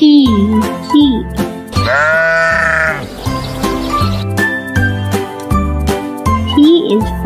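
Sheep bleat loudly and repeatedly over a bouncy children's tune with jingling chimes, the wavering bleats standing out above the music.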